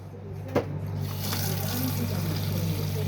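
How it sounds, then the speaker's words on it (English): In a Swift Elegance Grande 655 caravan bathroom, after a brief knock, hot water starts pouring from a tap in a steady, constant rush, with a low electrical hum underneath. "hot water coming out the tap as it should"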